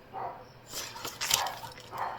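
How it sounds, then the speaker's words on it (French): A small dog yaps indoors a few times, sharp high barks that sound somewhat distant and muffled, with quiet room noise between them. "c'est le petit mon chien qui jappe"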